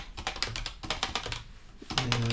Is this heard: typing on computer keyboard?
yes